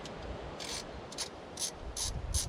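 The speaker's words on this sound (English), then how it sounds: "Pulley bolts are coming out." Pulley bolts are being loosened and removed on a 1997 Toyota Tacoma engine, with short bursts of bright ratchet clicking repeating at intervals over a low, steady background hum.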